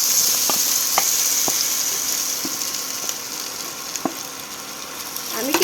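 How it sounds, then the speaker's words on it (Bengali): Ivy gourd (kundri) coated in gram flour frying in mustard oil sizzles in a steady, close hiss, broken by occasional sharp clicks and light taps from the pan. "এবার আমি ম্যাগনেট করা কুঁদরিগুলোকে এর মধ্যে আমি দিয়ে আমি ভেজে নেব"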